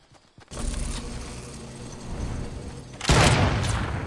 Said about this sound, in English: We're getting sniped at from like 4 different angles.